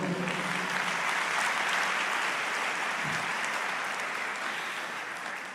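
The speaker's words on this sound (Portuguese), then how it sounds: "Você pode aplaudir o Senhor?" A church congregation at a Portuguese-language sermon breaks into sustained applause, a dense, steady clatter of many hands lasting several seconds and slowly tapering, with no talking over it.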